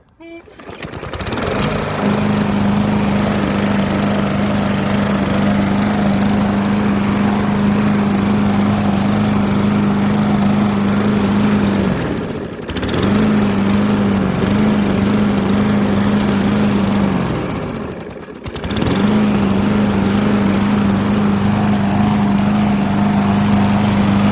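A Bolens 21-inch push lawn mower with a 140cc engine runs at a steady drone, dipping briefly twice before returning to full speed, loud and close throughout.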